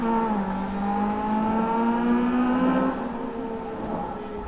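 A car engine revs hard in the Need for Speed racing game, VTEC kicking in, with rising and falling harmonic engine tones sustained loud and close throughout, no talking.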